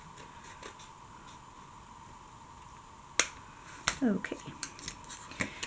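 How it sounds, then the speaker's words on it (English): Scissors give a handful of sharp, crisp snips as they trim excess paper off a handmade card, quiet clicks clustered near the end, with a brief spoken word. "I'm just going to bring in my scissors real quick, and I'll snip that off."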